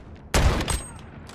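Gunfire in Call of Duty: Modern Warfare, a 2v2 Alpha match: a sudden loud burst of shots, then a second quick volley fading into quieter background noise.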